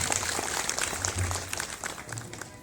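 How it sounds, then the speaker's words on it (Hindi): Audience applause at a pathology lab opening at a health centre, a loud, dense, sustained clapping from a crowd that continues throughout. "एक बार जोरदार ताली विधानसभा अध्यक्ष जी के लिए।"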